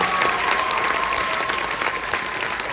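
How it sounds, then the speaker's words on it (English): Audience applause fills a school Christmas band concert hall, steady dense clapping sustained throughout with a faint tone running underneath and no one speaking over it. "One last round of applause for them."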